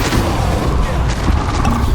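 A Bombarda blasting spell goes off in Hogwarts Legacy, a loud, dense explosive burst that fills the short moment with rumbling noise.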